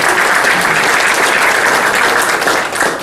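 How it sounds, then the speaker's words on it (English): Steady, loud audience applause at a State of the City 2014 event honoring corporate sponsors, dense clapping sustained throughout with a slight dip near the end. "a round of applause for each of them"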